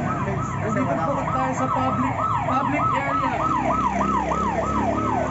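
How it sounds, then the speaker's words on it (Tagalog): A police car siren wails in a fast repeating up-and-down sweep, loud and steady throughout as it passes along a public street, with traffic rumble beneath and a brief voice. "Ayan, may dumaang pulis."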